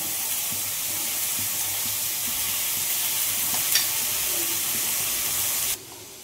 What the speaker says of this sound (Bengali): আলু করলা ভাজাটাও এখন বসিয়ে দিলাম